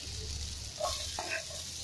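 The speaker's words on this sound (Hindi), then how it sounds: "ऑनियंस जो है गोल्डन ब्राउन हो चुके हैं" Chopped onions frying in a pan give a faint, steady sizzle with a brief stirring scrape in the middle, heard alone at low level.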